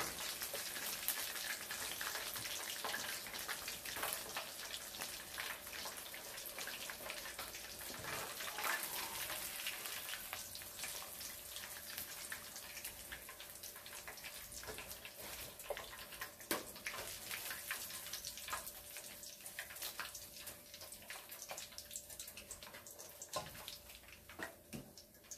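Masala-coated fish pieces fry in oil in a pan, making a steady, dense crackling sizzle that continues throughout at a moderate level with no talking.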